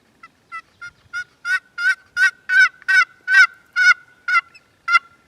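A series of about a dozen loud, rapid gobbling calls from a wild turkey, rising and then fading, close by with no talking.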